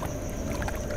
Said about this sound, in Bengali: নৌকাটি এগিয়ে চলল গন্তব্যের দিকে।